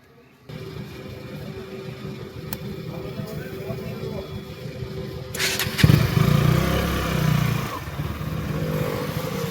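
A motorcycle engine starts up after a quiet moment and idles, then revs loudly as it rides off, a mid-pitched throbbing drone that rises and falls, with people talking over it.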